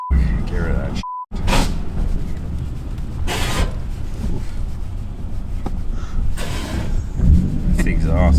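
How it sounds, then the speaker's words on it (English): Exhaust of a running Toyota Aristo engine, likely with the catalytic converter still fitted, giving a steady raspy drone close by, with people talking over it and brief clanks and rattles from work on the car. "It's the exhaust."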